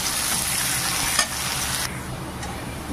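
Chopped onion and garlic fry in oil for a taro-leaf dish, giving a steady, dense sizzle with a single stir or clink partway through, after which the hiss eases slightly, close and without talk.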